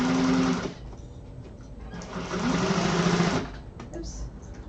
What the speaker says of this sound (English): going forward 2 stitches and backwards and then forwards to lock in those stitches all the way across